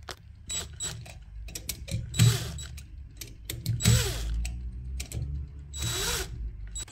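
Screws are tightened by hand with a screwdriver while a Hive thermostat is fitted to a combi boiler, giving repeated close ratcheting clicks and short bursts of turning in an irregular rhythm, with no talking.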